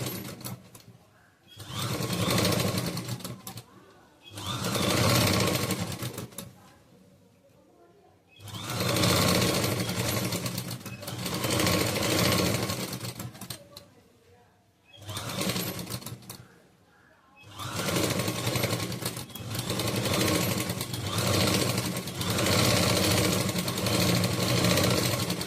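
A sewing machine stitches lining cloth for a churidar in long steady runs, loud and close, stopping and restarting several times with short quiet gaps between bursts.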